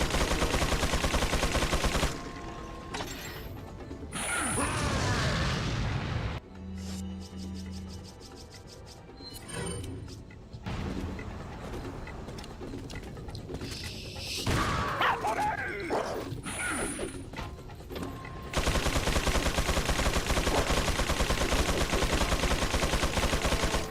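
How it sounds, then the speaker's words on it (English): Heavy gunfire and blasts in Resident Evil 4 (2005) as a grenade is fired, with bursts of shots, a sharp explosion and shifting combat noise, dog-like yips and harsh loud stretches throughout. "Switch to a grenade. Fire grenade."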